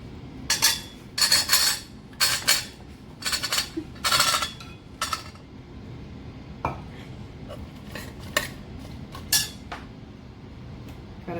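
Metal utensils clink and clatter against a cooking pot in several bright bursts as pumpkin goes in for a Kerala mathanga erissery, the clinks close and loud early, then sparser, softer taps over a low kitchen hum.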